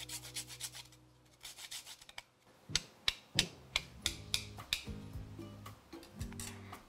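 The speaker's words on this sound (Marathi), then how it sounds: "जायफळ कायम असं फ्रेश किसून घालायचं" Fresh nutmeg rasped against a small grater for a sweet dish, about ten crisp scraping strokes in a steady rhythm, close and clear with no talking.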